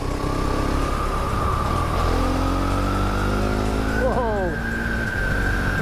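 A Husqvarna Vitpilen 701 motorcycle is ridden hard through twisty roads: a loud, close engine drone with wind rush, rising and falling as revs change, and a quick run of gear shifts.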